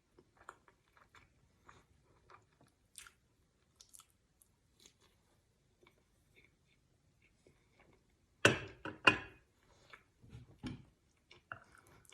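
Someone eats pancakes with cottage cheese in a quiet room, with faint sparse chewing clicks and soft mouth sounds, then a couple of louder close bites and chews near the end.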